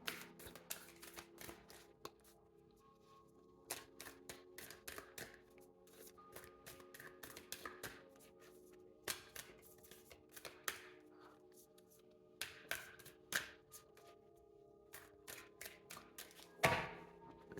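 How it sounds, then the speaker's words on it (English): A deck of oracle cards being shuffled by hand, quick papery riffles and soft taps in irregular bursts, close and quiet, with occasional thumps of the deck being squared. "let's shuffle"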